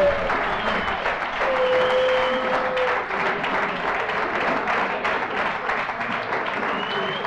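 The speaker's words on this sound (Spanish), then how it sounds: "Un fuerte aplauso a Sergio, que se ha llevado hoy lo indecible" Loud, sustained crowd applause at a homebrewing competition awards gala, dense clapping filling the room throughout, with voices and cheers mixed in and a brief whistle-like tone partway through.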